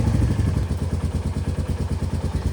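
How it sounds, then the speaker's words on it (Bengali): Motorcycle engine started up and running, a low, rapid, rhythmic putter heard close by at a steady pace with no voices. "নেমে একবার করেও বাইক স্টার্ট দেবে, এই যে হচ্ছে না স্টার্ট, হয়েছে।"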